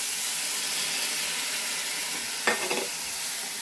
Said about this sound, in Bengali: আবার গুলে রাখা মশলাটা দিয়ে দিচ্ছি